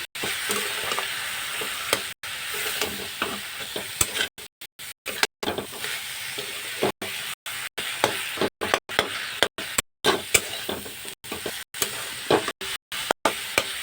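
Leafy greens (saag) fry in a pan with a continuous hiss and crackle, joined by the repeated scrape and knock of a spatula stirring, close and steady throughout with no talking.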